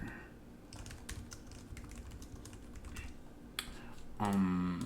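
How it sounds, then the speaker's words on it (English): Keys clatter steadily on a computer keyboard in a quiet room, light close taps coming in quick bursts, with a brief louder sound near the end. "now that we're here, I'm going to type this over here."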